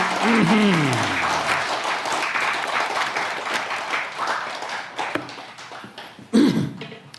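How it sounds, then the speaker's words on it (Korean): A seated congregation at a Buddhist dharma talk in Korea claps in a steady, dense round of applause that slowly fades over several seconds, with a brief voice at the start and another near the end. "박수로 청해주시기 바랍니다"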